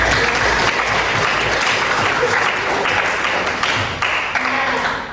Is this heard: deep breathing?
no